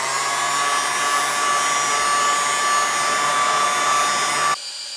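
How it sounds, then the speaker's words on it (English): A heat gun blows hot air onto old guitar parts with peeling finish, a loud, steady whooshing roar that holds constant for several seconds and then cuts off abruptly, leaving quieter room noise. "When you're using a heat gun, be careful."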